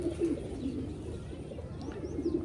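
A female Bagha pigeon, in moult, gives soft, low, throaty coos in short repeated bursts, close by, over steady background hum.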